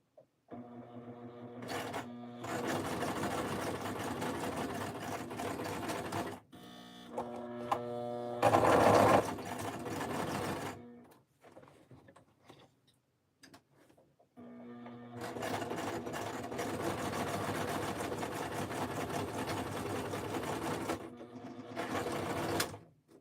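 A home sewing machine runs in long bursts of stitching, loud and close, broken by short pauses and a brief stop in the middle, with no talk over it.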